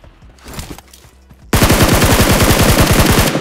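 Gunfire in PUBG on the Erangel map, a few scattered shots at first and then a sudden loud, rapid automatic burst that continues with steady rhythm up close.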